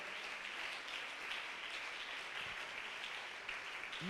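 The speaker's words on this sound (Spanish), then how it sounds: "Alguien que le dé un aplauso fuerte a la gloria de Dios." Church congregation clapping in praise during a service, a steady, moderately distant wash of applause at even level, with a brief faint tonal sweep near the end and no speech.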